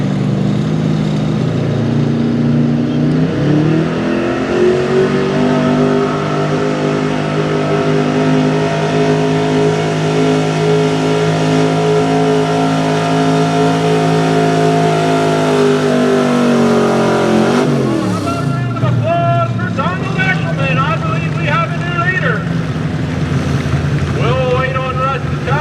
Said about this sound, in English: good running LS truck